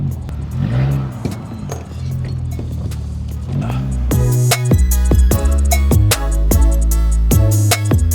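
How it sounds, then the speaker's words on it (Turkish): A Peugeot 106 GTI is driven into a garage, its engine droning low at first and then revving louder and harder in repeated pulls, filling the enclosed space. "Arkadaşlar araba içeri alıyoruz."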